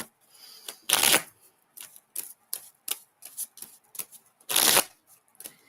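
Tarot cards are shuffled close up in a quiet room: two long riffling bursts framing a series of short crisp taps and flicks as the deck is handled, with no talking.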